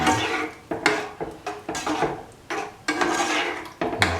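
A spoon scraping and stirring yogurt into a cucumber and coconut mixture in a pan over low heat, giving repeated close, rhythmic scrapes and knocks against the metal with brief pauses between strokes.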